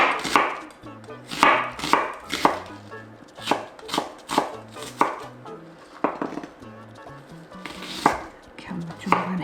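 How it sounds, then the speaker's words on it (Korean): A knife julienning 200 g of onion for fresh perilla leaf kimchi, giving rapid, close, crisp chops against a cutting board in steady bursts, with occasional pauses and faint background noises. "양파 200g 채 썰을게요."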